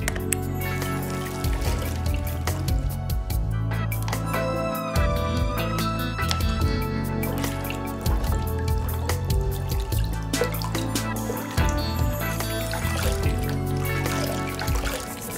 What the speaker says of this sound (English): You can now wash your soft gel mask using warm water and a gentle soap.